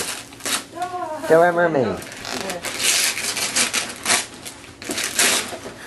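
Wrapping paper torn off a gift at a fourth birthday, bursts of crinkling and ripping paper close by, mixed with excited voices talking and a child squealing.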